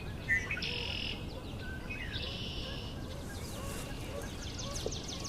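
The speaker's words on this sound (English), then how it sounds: "Red-winged blackbird over here." A red-winged blackbird calls outdoors with repeated buzzy, trilling notes, faint and somewhat distant against quiet background hiss.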